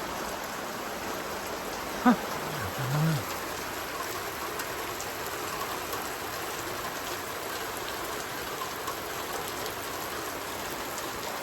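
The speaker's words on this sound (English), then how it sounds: "When the raindrops hitting the ground sounds a bit sharper" Raindrops patter steadily on the ground during a thunderstorm, a soft, even hiss that stays constant throughout, with a brief faint sound breaking in once near the start.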